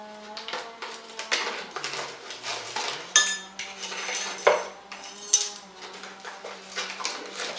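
A metal teaspoon scraping and clinking against the inside of a bucket of sugar, repeated scoops and taps in an irregular rhythm, close and fairly loud with a few brief murmured words.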